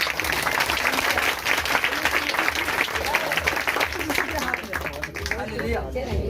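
A church congregation at Friday prayer gives loud, sustained applause that fills the hall. The clapping is dense and steady, with voices mixed in beneath it, and it eases slightly toward the end.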